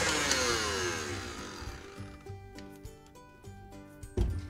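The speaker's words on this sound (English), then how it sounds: "And I'm gonna turn my mixer back on and whisk this until I have a nice and uniform mixture." An electric mixer whisking raspberry cheesecake base, its whine rising as it spins up, then steady whirring broken by rhythmic ticking knocks of the beaters against the bowl.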